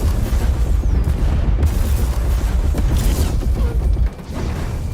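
Heavy warship guns being run out in a sci-fi battle scene: a loud, continuous mechanical rumble with creaking and deep booming throughout, dipping briefly near the end, with no voices.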